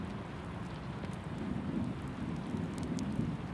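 Steady rain with wind and a low storm rumble outside a cabin, a constant soft wash of noise without pauses and no voices.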